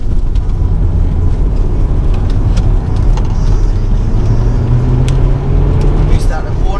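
A heavy Volvo S60R AWD with a 340 bhp turbocharged engine pulls hard out of a corner, its loud, steady engine note building under boost from inside the cabin.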